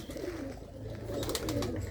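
Pigeons of a golden breed coo in a loft, low soft throaty calls repeating steadily at close range with faint chirps above.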